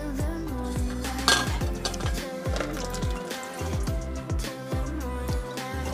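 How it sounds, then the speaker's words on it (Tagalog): A spoon stirs kaong (sugar palm fruit) in a bowl for a Filipino buko salad, giving repeated quick scraping clinks and soft wet sloshes in an uneven rhythm, close and moderately loud. "I-mix natin itong ating kaong."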